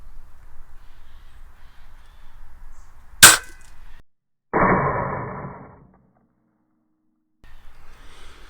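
A Feinwerkbau 300 S 10m match air rifle fires once with a single sharp crack, and a short mechanical rattle follows about a second later. Quiet room noise fills the rest.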